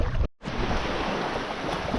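Steady wind and choppy lake water roll past a canoe on a river-loop trip in Algonquin. The noise is loud and continuous, broken by one brief dropout near the start.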